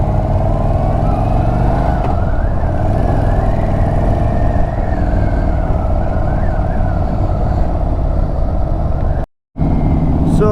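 Indian Chief Bobber Dark Horse motorcycle engine droning steadily at high revs while riding, loud and close with continuous wind roar, rising slightly in pitch before a brief cutout near the end.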